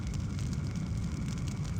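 Steady low crackling roar of a fire in the Sega Saturn game Deep Fear, dense rumbling texture with faint hiss above, continuous and fairly close with no talk.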